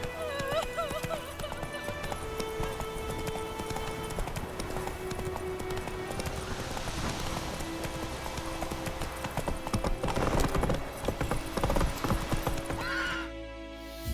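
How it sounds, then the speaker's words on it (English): Horse hooves clip-clop steadily through a Witcher 3 game scene, with whinnies and neighs breaking in over busy music and ambient sound, the gallop holding at a loud, even level for the whole stretch. "Not so fast, Roach"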